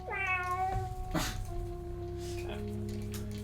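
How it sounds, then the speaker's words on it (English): A cat meows in the Star Trek: Judgement Rites computer game: a drawn-out meow at the start, then two shorter meows, clear against a steady background hum with no talk. "Was Ellis hyped to see the cats?"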